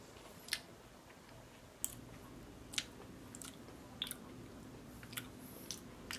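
Quiet crunchy chewing of a Nestlé Kit Kat wafer chocolate, with sharp crisp bites and crackles at irregular intervals over a soft background hush, close to the listener.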